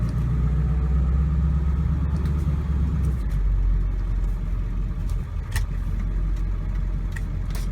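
A rebuilt 2001 Ford F250 Powerstroke diesel truck shifting into drive, with a steady low engine rumble at idle that changes pitch and settles partway through, no talk.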